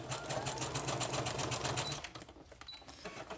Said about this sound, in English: I'm going to sew down the edge of this